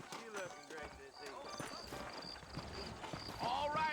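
Horse hooves clip-clop at a steady walking rhythm in Red Dead Redemption, a Western open-world video game, mixed with in-game character dialogue and a brief whinny.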